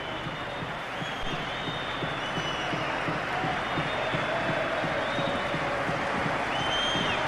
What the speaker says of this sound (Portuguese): E está alguns assobios, alguns aplausos.